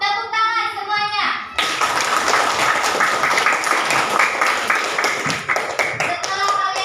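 A classroom of children bursts into lively, close clapping that carries on for several seconds, with scattered taps and young voices mixed in after an adult speaks briefly at the start.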